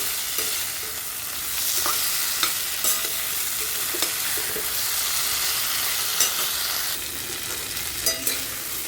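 Potatoes and Singapuri bananas sautéing with spices in a pan, a continuous close sizzle broken by repeated scraping stirs and occasional sharp clinks of the spoon against the pan.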